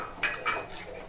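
A spoon clinks and scrapes against a metal pot while tomato sauce with tamarind is stirred, two or three sharp metallic knocks close by, then softer scraping, with no talk.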